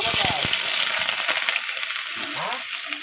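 Chopped ginger and green chilies fry in a pan, giving a continuous close sizzle with crackling pops, under faint speech.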